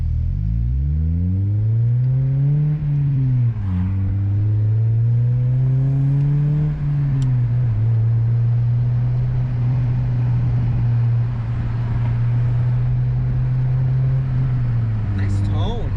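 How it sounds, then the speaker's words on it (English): A 2007 Acura TSX with a deep exhaust tone revs up and down a few times, then settles into a steady, loud, low drone that holds for several seconds before easing off, with people talking nearby. "Nice tone to the exhaust. Very deep, right?"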